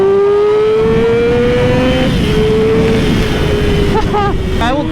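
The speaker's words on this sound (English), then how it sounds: "I will still rev it out a little bit" A Yamaha R6 motorcycle engine runs steadily at high revs, its pitch rising slowly and then holding, with constant wind rush throughout and a few quick rev blips near the end.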